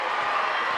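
Deafening basketball crowd roaring and cheering in a packed gym during a state semifinal game, a dense, steady wall of loud voices with no break.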